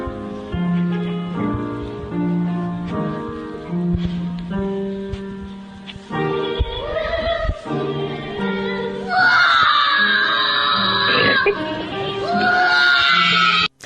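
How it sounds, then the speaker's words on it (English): A children's choir sings sustained harmonized notes while one boy breaks into piercing, possessed-sounding shrieks that rise over the group and grow louder toward the end. "he just starts shrieking like he's the devil"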